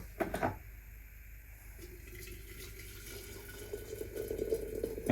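Boiling water poured from a kettle into a teapot for tea, a steady faint splashing stream after a short clatter at the start, rising slightly in pitch toward the end as the pot fills.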